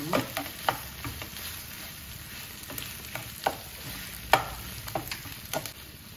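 Mashed potato and onions are stirred in a frying pan, a spoon scraping and tapping the pan in irregular strokes over a soft steady sizzle, close and alone.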